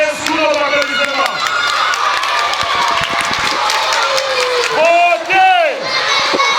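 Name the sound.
audience applauding and cheering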